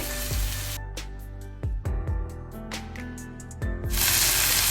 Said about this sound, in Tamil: இந்த தக்காளி பழம் சேர்த்துட்டு ஒரு ரெண்டு நிமிஷம் இதை வதங்க விடுவோம்